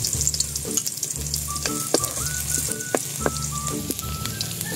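Ginger and garlic sizzle steadily in a hot pan with a constant frying hiss, while a spatula scrapes and clinks against the metal in several short, uneven strokes. Nobody speaks.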